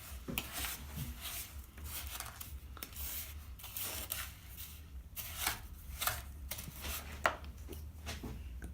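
Homemade sugar scrub being stirred in a bowl, a gritty, wet-sand mixture giving steady scraping and rubbing strokes with occasional sharper taps of the utensil, close and fairly faint over low background hum.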